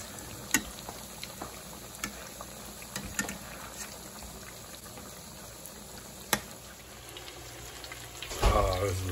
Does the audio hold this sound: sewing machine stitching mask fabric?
no